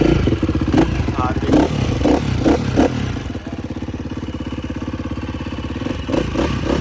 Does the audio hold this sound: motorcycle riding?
yes